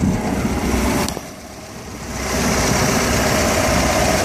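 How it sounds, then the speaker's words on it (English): A 140 hp MerCruiser four-cylinder inboard-outboard motor runs on a boat on Lake St. Louis, a steady close engine drone that briefly dips and then settles back to an even idle. "Merc Cruiser, inboard outboard, four cylinder."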